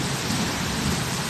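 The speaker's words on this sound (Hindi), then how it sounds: "मगर बारिश बहुत तेज़ है" Heavy monsoon rain pours down steadily in a dense, continuous hiss, with thunder rumbling low underneath.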